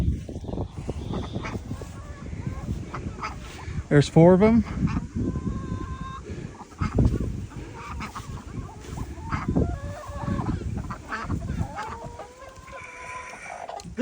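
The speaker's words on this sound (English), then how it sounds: "Here's the ducks. These are black Swedish." Black Swedish ducks in a poultry yard with chickens, giving scattered honks and quacks near and far, with clucking around them and a person talking in between.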